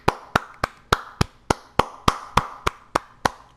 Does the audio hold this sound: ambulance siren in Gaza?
no